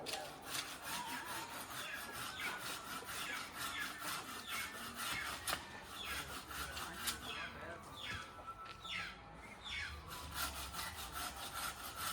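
Hand saw cutting through stainless steel telescopic pipe, a steady run of rapid back-and-forth rasping strokes, fairly quiet and close, continuing evenly throughout with no speech over it.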